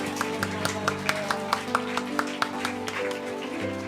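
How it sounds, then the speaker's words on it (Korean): At a New Year's Eve watch-night church service, the congregation claps in celebration, with evenly spaced claps over a steady bed of sustained music. "이제 축하의 박수 드립니다."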